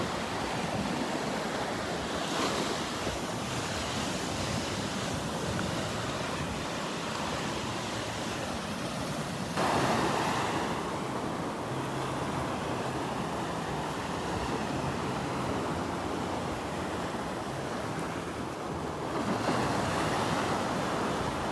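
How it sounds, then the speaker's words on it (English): Ocean waves break on sandbars at Delnor-Wiggins beach on the Gulf coast, a steady, broad rushing surf with swells building and easing, heard alone with some wind noise on the microphone. "the waves are really starting to break on the sandbars here"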